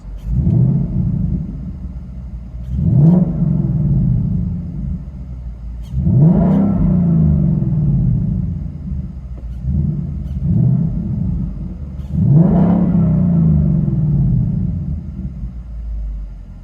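A car with factory mufflers and an H-pipe revs four times through its exhaust, each burst rising to a deep roaring growl, then settling back to a low rumbling idle.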